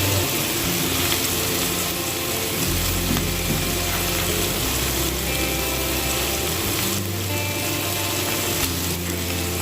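Adobo pork ribs seasoned with black pepper frying in a pan, a continuous loud sizzle with scraping, clattering stirs throughout, close and steady, no voices.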